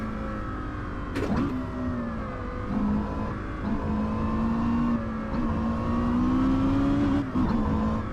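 Porsche Carrera GT road car running on a track, its engine holding a steady, sustained tone with gentle pitch rises, continuous and fairly close, with no talking over it.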